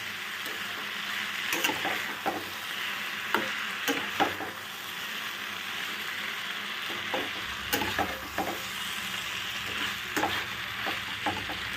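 Baby bhetki fish heads cooking with pui greens in a pan over low heat, a continuous soft sizzle with irregular clicks and scrapes of a spatula stirring and mixing, close by.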